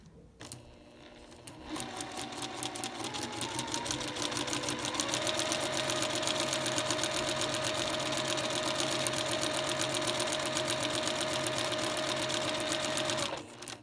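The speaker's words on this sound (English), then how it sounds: "So let's go to the machine. I start sewing a little bit off of the edge." A sewing machine stitches a paper-pieced quilt seam, starting with a short burst, then running at a fast, steady whir with a rapid mechanical rattle for about twelve seconds before stopping abruptly. Close and alone.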